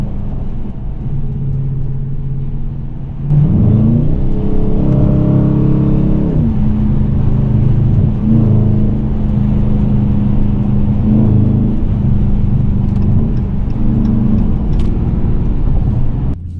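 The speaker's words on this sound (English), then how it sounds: "We're gonna do one more pull in sports mode." A Dodge Challenger R/T fitted with a throttle controller accelerates hard in sports mode, its engine note rising steadily through gears with brief dips at shifts, loud and close from the cabin, no talking.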